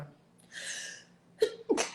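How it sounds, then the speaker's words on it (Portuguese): A woman sneezes once, sharp and close, with a short intake of breath just before it, during an indoor conversation about menopause. "eu espirrando aqui, gente, não é Covid, tá?"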